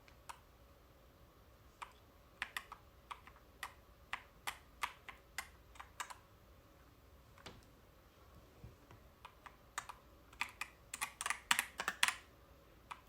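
Keys clacking on a heavy Coolkiller CK75 transparent mechanical keyboard, sparse separate strokes at first, then quickening into faster bursts of typing near the end, close and clear in a quiet room.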